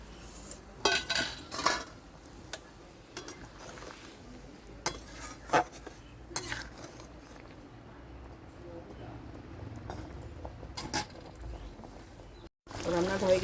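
Fried egg and potato are added to a cooking pot, with scattered metallic clinks and spoon scrapes against the pot against a quiet kitchen background.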